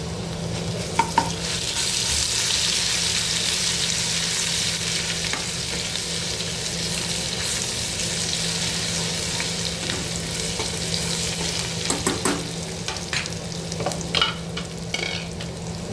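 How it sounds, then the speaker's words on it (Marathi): Spoonful of ginger-garlic paste with a pinch of asafoetida sautéing in oil, a constant close crackling sizzle with occasional stirring scrapes and clicks, no talk over it. "एक चमचा आलं लसणाची पेस्ट व्यवस्थित तेलामध्ये परतून घ्यायची आपल्याला"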